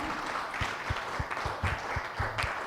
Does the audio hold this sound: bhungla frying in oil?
no